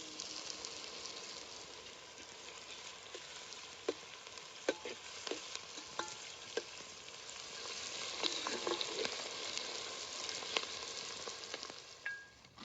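Onion and whole spices, including cinnamon, cloves, pepper, star anise and bay leaf, fry in very hot oil, a soft steady sizzle with scattered pops and clicks of stirring, fairly quiet and unaccompanied by talk.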